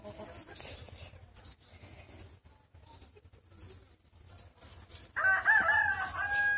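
Chickens cluck and a rooster crows nearby, scattered calls building to a loud crow near the end.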